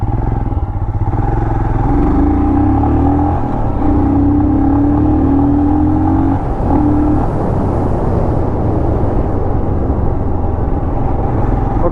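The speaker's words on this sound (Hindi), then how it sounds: "So the exhaust note is very nice." A Royal Enfield Scram 411 motorcycle's exhaust note runs steadily and loudly for the whole stretch: a deep, throbbing engine drone with slight shifts in pitch, and no voices over it.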